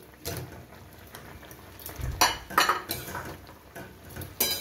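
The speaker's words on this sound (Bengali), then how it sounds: "এইবার আমি এর মধ্যে কুলগুলো দিয়ে দিলাম।" Jujube berries tipped into boiling sugar syrup for a tomato and jujube chutney, heard as several sharp metallic clanks of a spoon against a pot amid a faint bubbling background.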